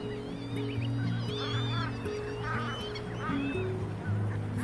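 Wetland birds call in a busy flock, with goose-like honks and fowl cries overlapping continuously over a steady low hum. The calls are moderately loud and no one speaks.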